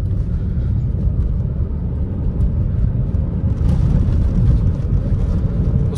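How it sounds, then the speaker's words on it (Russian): A 2013 Toyota Corolla E180 accelerating at full throttle with its wheels spinning, a loud, dense low engine and road rumble that holds steady throughout and swells slightly toward the end. "Газ в пол, автомобиль буксует у нас."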